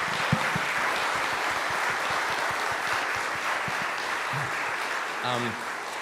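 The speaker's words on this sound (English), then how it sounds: "if I can ask for another round of applause for those speakers" Audience applause for speakers at a memorial gathering with a choir, steady dense clapping with a few sharp nearby claps, and a brief voice near the end.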